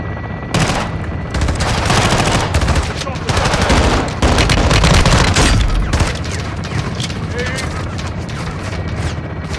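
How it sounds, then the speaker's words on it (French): Heavy machine gun fire pours down from a tower in the Call of Duty Modern Warfare II campaign, dense loud rattling bursts mixed with explosions and battle noise continuously for several seconds. "On essuie des tirs de mitrailleuse en bas de la tour."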